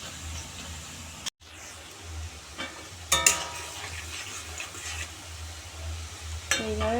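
Food frying in a pan over low heat, a quiet sizzle with spatula stirring and occasional clinks of utensil on metal, close by.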